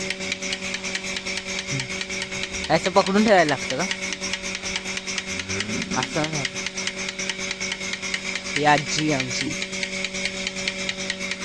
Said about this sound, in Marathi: हे बघा दूध काढायचं मशीन लावलंय